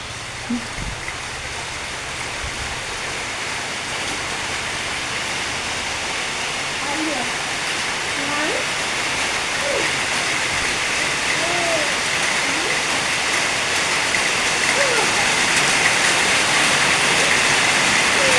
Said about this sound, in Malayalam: മഴ പെയ്യുന്നോണ്ടാ മഴ